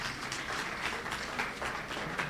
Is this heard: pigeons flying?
no